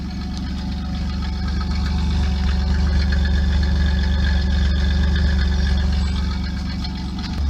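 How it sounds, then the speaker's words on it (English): A 1997 Pontiac Firebird V6 idling, a steady low rumbling hum held at a constant level close by, with no talk over it. "the idle does not sound that bad"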